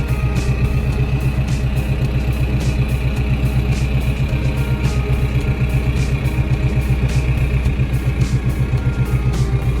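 A New Holland tractor engine runs steadily and loudly while clearing land, a continuous close diesel drone with rhythmic mechanical clatter throughout.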